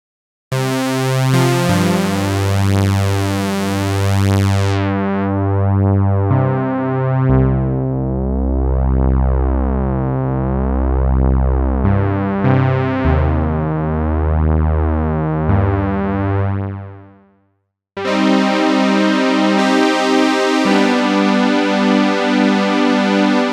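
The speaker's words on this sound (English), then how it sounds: "I'm just going for a big, rich analog synth tone." A Cherry Audio Elka-X software synthesizer plays a big, rich analog-style tone, with sustained chords and melodic phrases shifting in pitch. A brief gap near the end falls to silence before the notes come back loud, and no one speaks.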